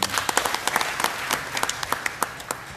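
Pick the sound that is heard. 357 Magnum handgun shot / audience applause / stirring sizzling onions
audience applause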